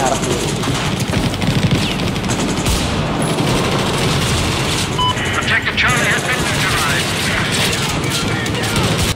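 Loud, sustained gunfire in a shooter game played on an MSI GS32 gaming laptop, with rapid machine-gun bursts and booms packed densely over a roaring battle background.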